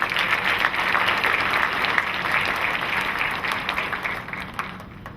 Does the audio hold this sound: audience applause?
yes